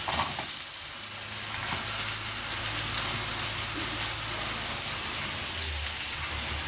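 Onions with curry leaves and green chillies sizzle steadily in hot oil, a dense, loud crackle that holds without pause from start to finish.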